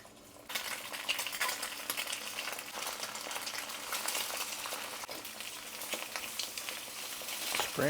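Three eggs being scrambled in a frying pan, a steady soft sizzle with scraping and stirring of a utensil against the pan, close and continuous for several seconds without talk.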